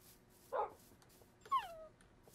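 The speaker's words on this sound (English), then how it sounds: "Come on, little puppy." A puppy in a video game gives two short, high whimpering yips about a second apart. Both are soft and close, with quiet between them.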